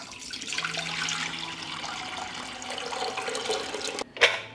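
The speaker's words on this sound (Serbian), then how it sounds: "U lonac ću sipati litar tople vode." About a litre of warm water poured into a pressure cooker holding jars: a steady, close splashing pour that runs several seconds and ends in a sharp knock, with no talking.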